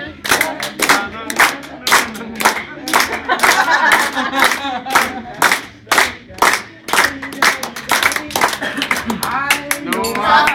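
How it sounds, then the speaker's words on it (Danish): A birthday party group claps along to a Danish birthday song, many hands striking together in a steady rhythmic beat, close and loud, with singing voices underneath. "Og hør nu her, hvordan vi alle klappe vil."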